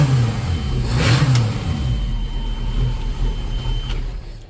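A MerCruiser boat engine runs steadily, warming up before an oil, oil filter and fuel filter change, with a continuous low mechanical drone at a constant moderate level throughout and no speech.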